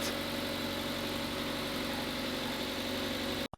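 A drift car's freshly swapped engine runs at a steady, loud idle with a constant droning hum and rumble, close by and uninterrupted until it cuts off abruptly at the very end.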